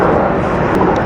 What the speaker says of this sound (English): there's an airplane flying above